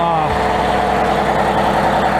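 A truck engine idles steadily just after a cold start in negative-teens weather, a continuous low mechanical rumble close to the microphone, with a brief falling tone at the outset.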